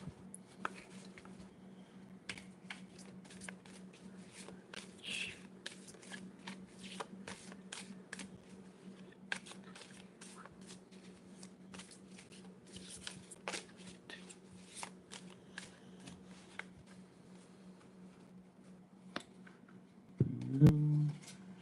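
A deck of tarot cards being shuffled by hand, long runs of soft riffling flicks and taps over a low steady hum, close and fairly quiet, with a brief louder handling noise near the end.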